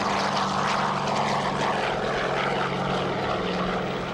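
A Douglas DC-3 piston-engine propeller plane drones past at an air show, a loud throbbing rumble that holds steady and begins to fade slightly.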